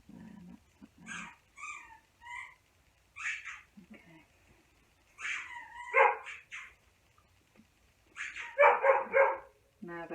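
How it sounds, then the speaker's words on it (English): Dogs bark and yip at each other over a toy in short, separate bursts spread across the clip, close by and fairly loud against a quiet background. "Now they're going to be barking at each other to see who's got the best toy."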